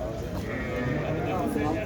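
At a small-livestock market in Şarkışla, sheep and goats bleat repeatedly nearby in a crowded, noisy setting, their calls mixed under people talking.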